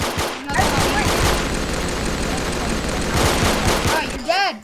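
Rapid gunfire in the video game Arsenal: a dense, loud, continuous burst of pistol shots that fills nearly the whole moment, with a voice calling out briefly at the end.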